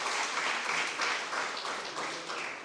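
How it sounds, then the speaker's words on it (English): Applause at a peace, security and justice symposium in Musanze, Rwanda, as the Minister of Justice comes forward, a dense, sustained clapping that gradually softens. "A round of applause as he comes forward"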